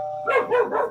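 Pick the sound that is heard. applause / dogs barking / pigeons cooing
dogs barking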